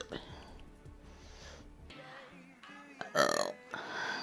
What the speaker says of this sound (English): Oh, that sounded like a nasty burp.